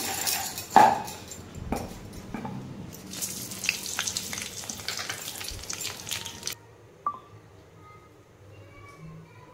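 Cumin seeds fry in a pan over a low flame for Odia mixed-vegetable dalma, with a soft crackling sizzle, a few sharp metallic clinks of utensils early on, and a quieter, fading fizz toward the end.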